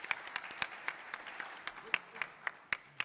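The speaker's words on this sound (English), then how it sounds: "round of applause." Audience applause at an afternoon keynote talk, a steady patter of many hands clapping with sharper individual claps standing out, moderately loud and continuous for a few seconds.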